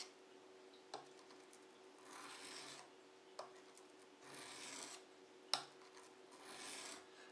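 A knife blade with a Scandi grind is swept across a sharpening stone in slow, even strokes, each one a soft, near rasping hiss, with light clicks as the blade is set down between passes.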